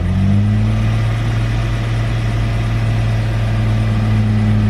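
A 2002 Jeep Grand Cherokee Laredo engine idles steadily with a low, even hum and steady drone close by. The revs rise slightly as a little throttle is applied.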